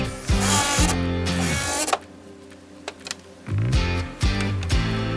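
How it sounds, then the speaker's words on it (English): A drill-driver sinks 3-inch deck screws into an outdoor wood table, its motor whining up and winding down in two long, loud bursts separated by a quieter pause. "I'm screwing it together with 3-inch deck screws."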